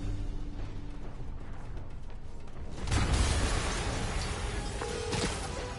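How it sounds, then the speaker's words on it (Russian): Dense rumbling noise swells into a loud booming blast near the middle of a Spider-Man video game scene, followed by sustained crackling debris and rumble. "взрыв только что"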